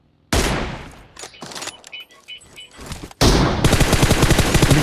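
Gunfire in the video game PUBG: a loud volley of shots, a stretch of scattered sharp cracks, then sustained rapid automatic fire that carries on to the end.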